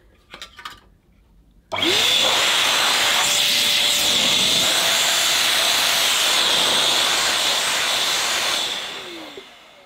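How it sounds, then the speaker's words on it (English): A CompuCleaner Xpert electric air duster switches on abruptly after brief handling noises and blows a loud, steady high-pitched rush of air for several seconds before winding down. "That's pretty strong. This will be useful when I want to blow out the dust from an electric motor."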